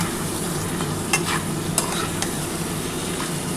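Spice masala is sautéed and stirred in a hot pan for a mutton keema bora curry with potatoes; a steady dense sizzle runs throughout, broken by soft scraping strokes of a spoon, close and fairly loud.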